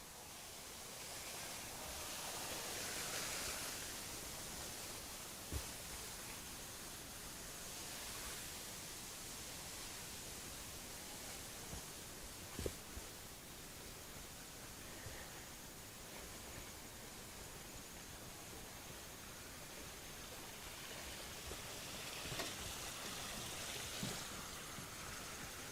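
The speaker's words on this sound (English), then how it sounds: "the big waterfall up there makes lots of noise" A large garden waterfall spills into a pond, a continuous soft broadband rush of falling water that holds steady throughout with faint occasional splashes and clicks, fairly distant and quiet.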